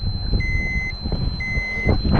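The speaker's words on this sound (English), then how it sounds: "So our threshold alarm went off" A radiation dosimeter's threshold alarm sounds at a nuclear test site, giving two short, clear electronic beeps about a second apart over faint background rumble.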